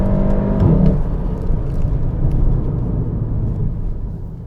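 A facelifted Volkswagen Golf GTI Mark 7 performance model with 245 horsepower, heard from inside while driving, its engine giving a steady low rumble and whir with a brief rising rev at the start.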